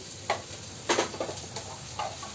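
Food stir-fried in a pan while salt is added, with soft scattered scrapes and taps of a spatula over a faint sizzle, the strokes coming at irregular intervals.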